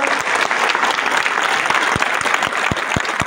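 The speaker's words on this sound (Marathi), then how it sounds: "नाटक आवडलं असेल तर जोरदार पुन्हा एकदा टाळ्या वाजवा." Dense, loud applause from a theatre audience at the end of a Marathi drama performance, steady clapping filling the whole stretch with a few sharper nearby claps standing out.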